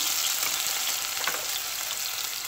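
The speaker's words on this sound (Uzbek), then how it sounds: "Men oldi bilan samsoq, zanjibil, g'o'l piyozlarni qo'rib olaman mana." Garlic and ginger fry in hot oil at the start of making Uyghur lagman, giving a steady, dense sizzle that stays loud and even throughout with no voices.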